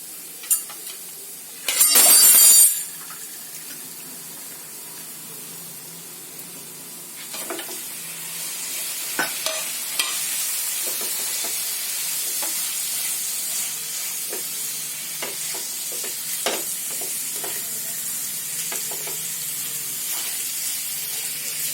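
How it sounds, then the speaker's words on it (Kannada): Pre-cooked mutton drops into hot bhuna masala with a sudden loud sizzling burst, then fries in a steady hiss while a spoon scrapes and taps the pan at intervals. "ಈಗ ಬೇಯಿಸಿ ಇಟ್ಕೊಂಡಿರೋ ಮಟನ್ ಹಾಕೊಳ್ಳಿ."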